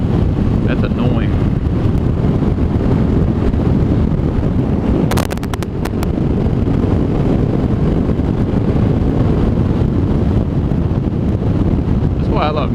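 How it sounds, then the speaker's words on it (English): Heavy wind buffets the microphone in a constant loud roar during a motorcycle ride as rain starts, with a brief crackle partway through. "It's so windy."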